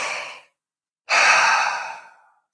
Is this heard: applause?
no